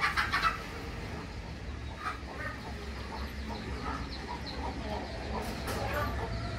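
Chickens cluck intermittently at moderate distance over a low, steady background hum, with scattered short calls throughout.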